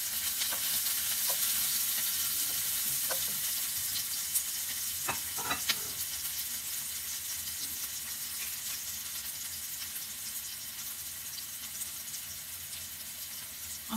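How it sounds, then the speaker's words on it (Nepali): Onion, ginger and garlic sizzle steadily in a pan for a Nepali-style dumpling sauce, a constant frying hiss with scattered scrapes and clinks as the mixture is stirred. "प्याजको साथसाथै मैले काटेर राखेको यो अदुवा र लसुन पनि हालेर त्यही म चलाउँछु।"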